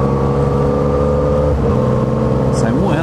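A car engine in a video game drones and revs steadily as the vehicle accelerates, loud and close, with no pauses across the stretch.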